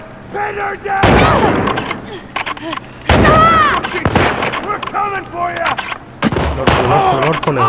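Rapid bursts of gunfire in The Last of Us Part II, loud sharp volleys that recur in clusters across the scene, mixed with excited shouting voices over the shots.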